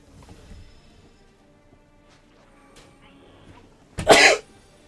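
One sharp, explosive sneeze bursts out close by in a quiet room, lasting under half a second after several seconds of faint background sounds.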